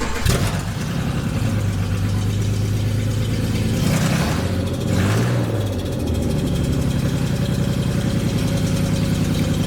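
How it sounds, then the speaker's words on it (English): A Subaru SVX engine cranks and catches, then settles into a steady, loud idle with brief revs rising and falling, heard up close with no talking. "I have my work area covered in gas so you guys can hear the car start."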